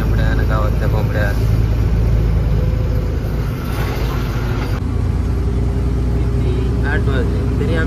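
A car cruising down an empty road in the early morning, its engine and tyre rumble droning steadily while people chat inside at intervals.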